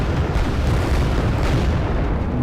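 Artillery barrage in the Wargame Airland Battle video game, a dense, continuous roar of overlapping explosions with no gaps between blasts, loud and close throughout.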